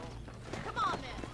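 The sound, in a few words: horse hooves while riding in Red Dead video game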